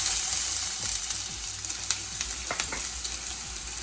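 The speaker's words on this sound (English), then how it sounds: "I'm gonna go ahead and put my onion in there" Chopped onion sizzles in hot oil in a pan for cod fish, a loud continuous frying hiss with faint crackles and a few stirring scrapes, close up and without talk.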